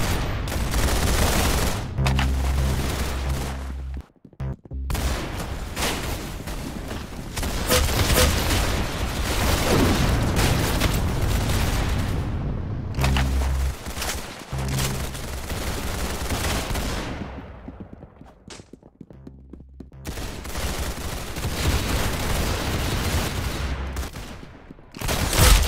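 Sustained bursts of automatic gunfire in Roblox Arsenal, loud and close, rattling in long volleys broken by a few short pauses, with no talk.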